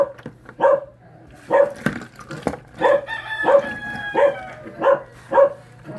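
A dog about to be butchered barks repeatedly, a series of sharp, loud calls in an uneven rhythm close by, with a rooster-like crowing note mixed in and steady low background hum.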